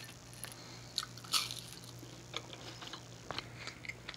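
Peanut butter and sriracha quesadilla bitten and chewed close up, a few crisp crunches followed by soft irregular chewing, quiet with no talking.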